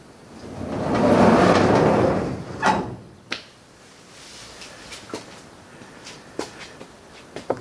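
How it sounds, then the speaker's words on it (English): A drawer of a plans chest slides open with a long, loud rumbling scrape, then bumps shut. Several sharp knocks and clicks follow, close and with no talking. "And 1 drawer left down the bottom, which I hope to put all the spare track in."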